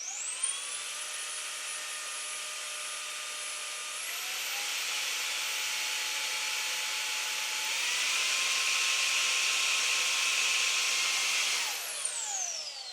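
A Fanttik BF10 Pro handheld blower whines at a high, steady pitch, stepping up in speed once and then again before spinning down at the end, close and alone with no voices.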